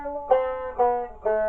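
Guitar plucking three short chord strums in Mixolydian mode for traditional backing, each a clear bright attack ringing out, evenly spaced and alone at moderate volume.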